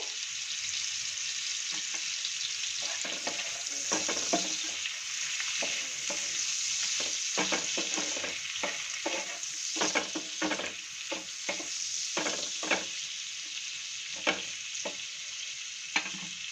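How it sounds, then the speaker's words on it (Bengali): Prawns fry with salt and turmeric in a covered pan, giving a continuous close sizzle broken by repeated scraping stirs. "ঢাকাটা দিয়ে চিংড়ি মাছটাকে আমি ফ্রাই করে নিচ্ছি।"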